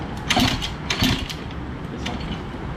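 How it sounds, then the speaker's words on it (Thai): A Honda Dio 50 scooter being started without a key by cranking the kick-start mechanism, giving a few loud mechanical ratcheting, gear-like bursts close by, with no clear engine catch afterward. "เดี๋ยวเรามาสตาร์ทนะครับ เพราะว่าสตาร์ทแบบนี้มัน มันเท่ดี สตาร์ทแบบไม่มีสายทาง"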